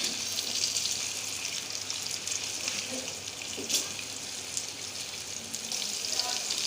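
Afghani omelette mixture cooking in a pan, a steady soft sizzle and crackle running throughout with a few faint clinks, close and moderately quiet, no talk over it.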